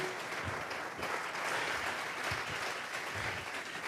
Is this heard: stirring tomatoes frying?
no